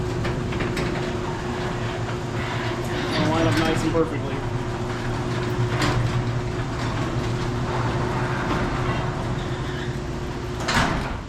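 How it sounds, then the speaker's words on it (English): A garage door with new weather stripping and a fresh bottom seal rolls shut in a steady, continuous rumble lasting several seconds, with a firmer thud near the end, while someone talks over it. "close the garage door."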